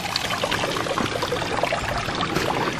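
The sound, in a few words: waterfall flowing on a mountain trail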